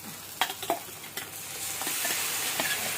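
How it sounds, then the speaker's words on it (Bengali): Spinach paste with salt, turmeric, cumin and coriander powder is stir-fried in a pan, a close, steady sizzle with a few sharp spatula scrapes and taps. "এবার সব একসাথে কষিয়ে নেব।"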